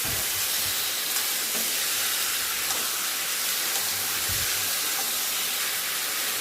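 Meat and spices fry in a pan until the oil separates, giving a constant, close, loud sizzling hiss with occasional soft clinks throughout.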